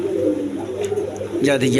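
A female Bantinet pigeon is released from the hand beside a male, with soft cooing and a brief flutter of wings under someone talking over nearby market noise.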